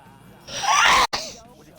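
A single loud, close sneeze bursts out and cuts off sharply, with quiet room sound before and after.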